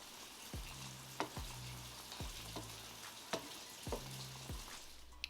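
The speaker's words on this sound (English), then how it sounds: "Now I'm going to add my shrimp back to the skillet just so it could finish cooking in this little sauce." Shrimp in a creamy curry sauce bubble and sizzle softly in a skillet, broken by several quick scraping stirs of a utensil at irregular intervals, quiet and close with no talking.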